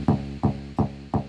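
A Waves Codex synth preset run through reverb and distortion sounds four loud, evenly spaced swelling notes, each with a sharp onset and a short decaying tail, alone with no voice.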